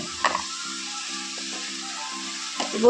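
Vegetable curry of pumpkin, potato and eggplant with stalks simmers and sizzles steadily in a pan, a soft continuous frying hiss with a few faint clinks of utensils near the start and end.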